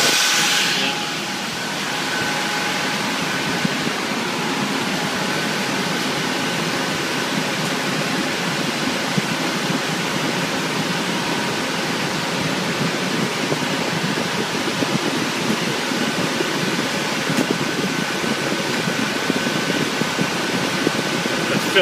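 Cooling fans of a Cisco 7000 router in a data center cold aisle roar in a steady, broadband hiss that holds constant after a brief startup surge, its front filter missing.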